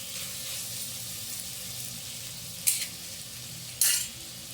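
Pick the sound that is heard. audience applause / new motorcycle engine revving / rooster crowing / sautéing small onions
sautéing small onions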